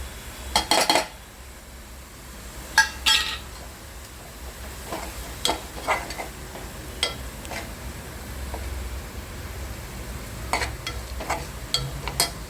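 Sliced onions frying in a pan with red chili masala and asafoetida for a potato chili bhaji: a steady soft sizzle under occasional sharp clinks and scrapes of a spoon stirring against the pan, no talking.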